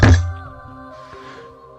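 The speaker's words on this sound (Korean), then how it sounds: "이젠 대놓고 막 문을 두드리더라고요." One hard thump lands on a door, a loud, close knock that fades into a lingering tonal ring, followed by a second sharp impact at the very end.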